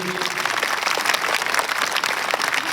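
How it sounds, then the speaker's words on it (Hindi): Schoolchildren applaud at a farewell for a teacher at a government senior secondary school in Rajasthan, dense sustained clapping filling the whole moment at a steady, fairly loud level. "और एक बार फिर बच्चों की तालियों के बीच आपको शुभकामनाएं"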